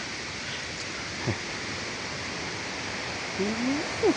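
Pan Ngam waterfall in Laos, a steady broadband rush of falling water heard evenly throughout, with a few faint chirps and brief sounds surfacing near the end.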